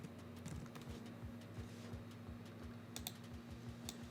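Fingers tap a computer keyboard in a quick, steady patter of close, soft clicks with no talk.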